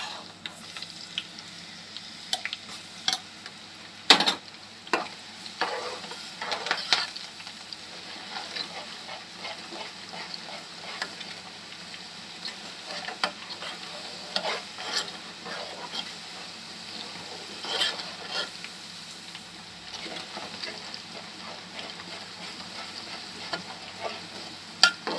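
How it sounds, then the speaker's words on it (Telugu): Garlic and cumin paste with curry leaves fries in a pan for a pickle. A steady, fairly quiet sizzle runs throughout, broken by repeated scraping clicks and taps of a spoon stirring, with no talk. "ఇప్పుడు ఇదంతా ఎల్లిగడ్డ జీలకర్ర కూడా ఫ్రై అయింది."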